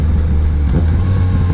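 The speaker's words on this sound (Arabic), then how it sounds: "نجربوا الكويك شيفتر" A Yamaha Tracer 900 GT motorcycle accelerates using its quickshifter, its engine giving a loud, close, steady low drone throughout the short burst.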